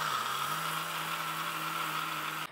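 A mixer grinder whirs steadily while grinding soaked rice and urad dal into batter, a constant droning motor hum with a strong whine that cuts off abruptly at the very end.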